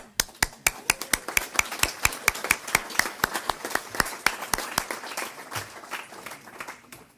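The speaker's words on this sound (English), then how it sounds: "give yourself a round of applause" Applause from a graduation ceremony audience, starting with sharp distinct claps that blur into a steady patter, then thinning out as it fades.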